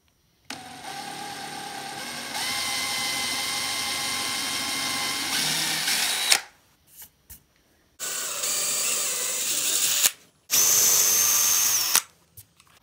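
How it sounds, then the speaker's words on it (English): Power drill pre-drilling holes in a walnut and epoxy serving board for small rubber feet: a long steady whine that rises in pitch, cuts off, then two shorter bursts with brief pauses between, close and loud. "I'm going to pre-drill some holes for these little rubber feet."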